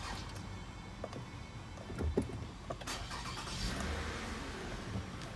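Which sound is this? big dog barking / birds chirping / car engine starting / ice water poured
car engine starting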